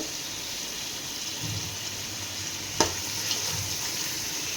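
Onions sauté in a pan with a low, steady sizzle, broken by a single sharp clack of a utensil midway and a few soft stirring sounds.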